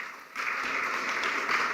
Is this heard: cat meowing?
no